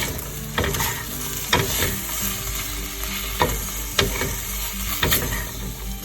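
Arbi (taro root) frying in a pan with a sprinkle of rice flour, a continuous close sizzle broken by repeated scraping stirs and spatula knocks at an irregular rhythm.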